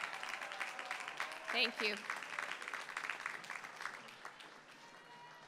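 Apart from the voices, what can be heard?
audience applauding first-generation graduates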